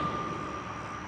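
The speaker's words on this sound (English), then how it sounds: "sorry for the traffic noise" Road traffic outside makes a low, steady rumble with a faint tonal hum, brief and even, with no talk over it.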